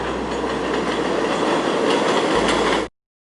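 A New York subway W train passes nearby with a loud, steady rush of rolling wheels and rail rumble, continuing without pause until the sound cuts off abruptly.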